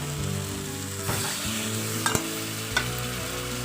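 Water is added to onion and tomato masala with turmeric and chili frying in a pan, producing a steady loud sizzle with a sharp hiss and scraping stirs.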